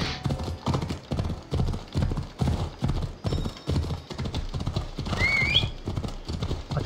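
A horse gallops in Assassin's Creed Odyssey, its hooves making a steady, loud clip-clop rhythm, and it lets out a sharp whinny near the end.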